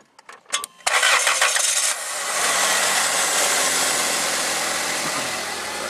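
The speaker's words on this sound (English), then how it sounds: "I'll have to wait for the engine to warm up" A Toyota Tarago/Previa/Estima engine cranks with a few clicks and whirs, catches, revs up, then settles into a steady, loud idle close by.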